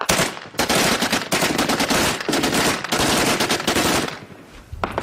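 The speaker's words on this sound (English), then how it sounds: "Then the base starts to return fire" Heavy gunfire as a base returns fire during fighting in Homs, Syria: dense, continuous bursts of automatic rifle shots, loud and near, with brief gaps between volleys.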